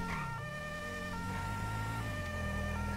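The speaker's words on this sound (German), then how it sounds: "Machen wir die Sirene aus." A police car siren in the video game Grand Theft Auto 5 wails continuously and loudly, its steady stacked tones shifting pitch in a sweeping pattern over an engine hum, with no talking.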